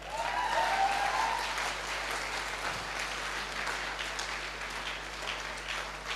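Sustained applause from an audience at a function in Bahraich, steady dense clapping throughout with a brief tonal voice near the start.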